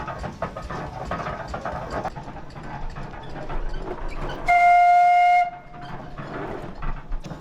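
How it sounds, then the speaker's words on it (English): A 1908 Dolbeer steam donkey logging engine runs with rapid mechanical clanking and ratcheting, broken by a loud, sustained steam whistle blast lasting about a second, then the rhythmic chugging carries on. "the machine we have behind us is a 1908 Dolbeer steam logging machine"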